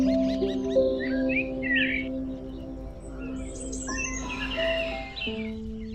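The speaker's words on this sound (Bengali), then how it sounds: "পাখির এত সুন্দর কিচিরমিচির ডাক" Small birds chirp and twitter in bright, scattered bursts on a rural char island in the morning, heard over a steady low hum, with no one speaking.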